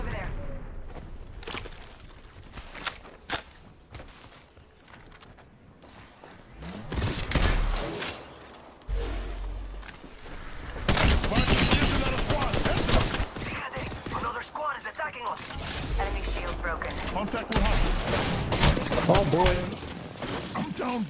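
Bursts of gunfire in the shooter Apex Legends, scattered clusters of rapid shots that swell loud in the middle and later stretches, mixed with game effects and voice lines spoken over the action.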